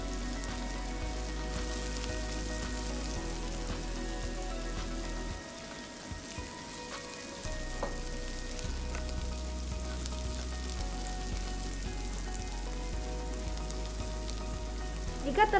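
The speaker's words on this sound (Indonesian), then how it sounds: "Kita tunggu dulu sampai bau harum agar tidak ada bau-bau bawang putih yang masih mentah." Garlic frying in a pan until fragrant, a loud, steady close-up sizzle that dips briefly partway through and then carries on, with no talking.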